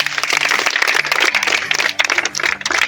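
An audience claps after a tennis figure's address at an official visit, loud, close handclaps with a few distinct individual claps, while a faint voice or music drone hums underneath.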